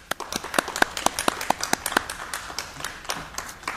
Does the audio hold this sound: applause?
yes